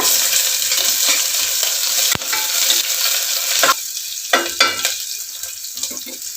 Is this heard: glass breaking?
no